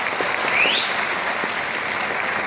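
An audience claps steadily for the speaker's parents, a dense, even round of applause held at one level throughout.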